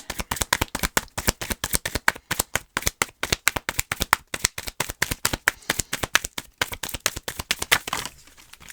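Tarot cards being shuffled, a rapid run of crisp riffling snaps at an even, fast rhythm, close and clear, with no voices, ending in a brief quiet tail.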